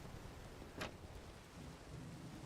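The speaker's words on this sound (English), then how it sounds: "I'm hearing thunder." Thunder in the Minecraft modpack ATM Gravitas 2 rumbles faintly over steady game rain, with one brief crack partway through.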